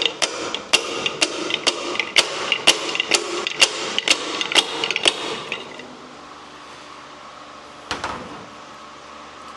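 About a dozen sharp metallic taps from an improvised hammer on a 1958 Plymouth engine part, in a quick, even rhythm, then a pause and one more tap, close and fairly loud.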